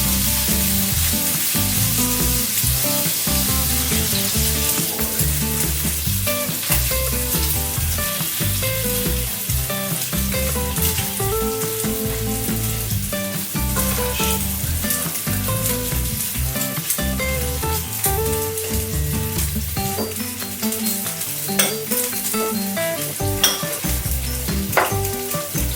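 Bacon sizzles and spits in a hot pan, a loud, dense crackle that runs unbroken for over twenty seconds, with faint scrapes of stirring and clinks of a utensil against the pan, close by and without speech.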